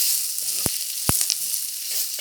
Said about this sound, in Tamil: இந்த வெங்காயம் கொஞ்சம் வதங்கட்டும்.